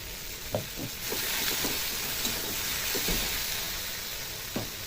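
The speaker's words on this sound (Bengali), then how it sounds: "মশলাটাকে সুন্দর করে কষিয়ে নেব" Ground cumin, turmeric, chili powder and salt fry in a pan with a little water, a steady close sizzle broken by soft scraping stirs, for a shrimp and taro curry.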